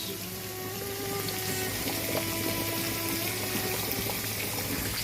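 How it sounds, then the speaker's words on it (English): Steady bubbling and simmering of potatoes boiling in a pot of water on a stove, a continuous low churn with occasional small pops and clinks. "Our potatoes have started boiling"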